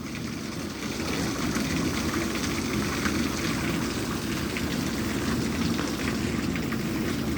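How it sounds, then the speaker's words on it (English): Heavy rain pours down steadily in the Chicago area, a dense and loud continuous hiss with a low rumbling roar beneath it and no voices. "so you can hear the full effect of this rain falling."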